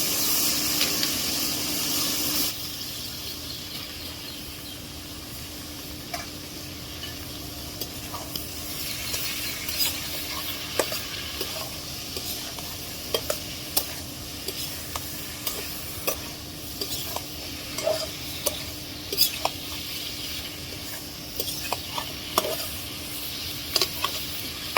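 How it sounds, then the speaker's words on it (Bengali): Onion frying with bitter gourd and potato in a pan for a bitter gourd stir-fry, a steady close sizzle and hiss broken by frequent scraping stirs and clinks of the spoon, with no talking. "পেঁয়াজটা একটু ভাজা হোক। করলা আলু দিয়ে দিব।"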